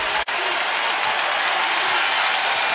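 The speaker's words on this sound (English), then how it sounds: "Crowd on its feet." A crowd of nearly 10,000 at a women's NCAA tournament basketball game cheering and clapping in an arena, a dense, loud, continuous roar of applause.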